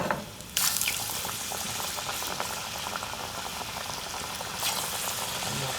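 Pork and green onion fritter batter deep-frying in hot oil, a steady dense bubbling sizzle close by that continues for several seconds, with a brief sharper crackle burst near the start and another toward the end.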